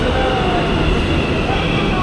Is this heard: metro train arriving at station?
yes